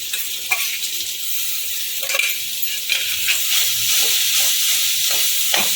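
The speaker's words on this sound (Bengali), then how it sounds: "রসুন আর কাঁচা লঙ্কাটা এখন এই ম্যাশ করে রাখা কাঁচা কলাটা আমি দিয়ে দেবো পুরোটাই" Mashed raw green banana hits a hot pan with fried garlic and green chilli, raising a loud, continuous sizzle and hiss with scattered stirring scrapes throughout.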